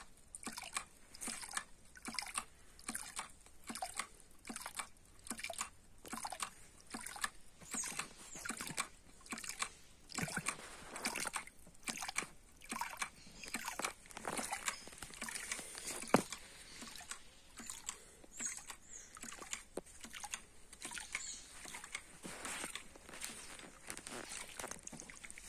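A low-cost homemade hydraulic ram pump beats in a steady, regular rhythm of sharp clacks over running water, close by and moderately loud, continuing throughout.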